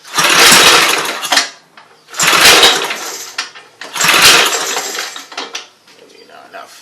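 Three harsh, rasping pulls on the recoil starter of a 5 HP Briggs and Stratton engine, each a loud scraping whir about a second long, separated by pauses, with no catch before fainter handling noises at the end.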